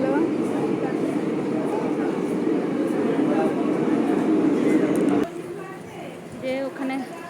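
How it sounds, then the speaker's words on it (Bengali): A train pulls out of a station as a family travels, with a broad, steady rumble of wheels and carriages that drops away sharply after about five seconds, leaving quieter sounds and faint voices. "ট্রেনটা ছেড়ে দিল।"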